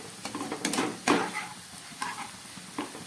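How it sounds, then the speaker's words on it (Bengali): Chopped vegetables and cooked rice are stirred together in a frying pan, with a soft sizzle beneath close scraping strokes of a spoon against the pan at an uneven pace. "এবার আমি সব একসঙ্গে একটু ভেজে দিচ্ছি।"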